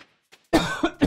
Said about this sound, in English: Hope I didn't cough in your ear too loud.